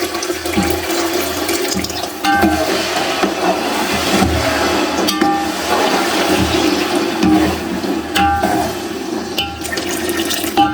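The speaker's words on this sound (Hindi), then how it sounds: "ज़रा सा हम पानी डालेंगे।" About a small cupful of water goes into hot melted ghee while flaxseed laddu (alsi pinni) is being made, giving a loud, continuous rushing, hissing gush that lasts several seconds without speech.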